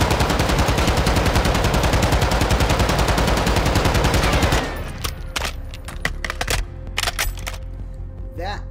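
Sustained full-auto bursts from a Taq-56 rifle with a 60-round drum in Modern Warfare II, loud rapid shots for about four and a half seconds, then scattered single reports and clicks over quieter game ambience.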